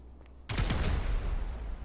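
Rapid gunfire rakes a ship in GTA 5, a dense volley of overlapping shots that bursts in suddenly and keeps rattling loudly without pause.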